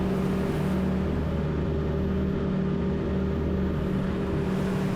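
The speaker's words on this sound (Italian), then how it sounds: "a poppa abbiamo 2 motori Mercury V8 da 300 cavalli ciascuno" A maxi RIB with twin Mercury V8 300 hp outboards, heard as a steady, loud low engine drone with a constant hum and no change in pitch, no voices over it.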